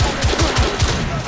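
Shotgun fire in The Order 1886 on PS4, a rapid run of loud, close blasts about every fifth of a second, with no talk over them.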